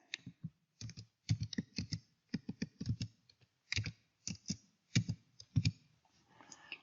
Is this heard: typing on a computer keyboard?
yes